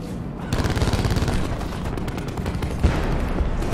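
Dense, continuous gunfire from a Call of Duty Black Ops 4 match on the Nuketown map, with rapid automatic bursts and overlapping shots that stay loud and unbroken throughout, plus a heavier blast near the end.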